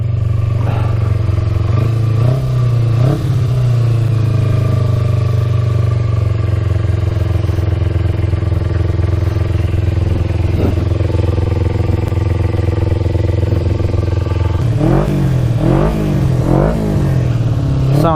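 A Kawasaki Ninja sport bike engine idles steadily while warming up, a loud close low drone holding throughout, with a few brief throttle blips and clattering near the end.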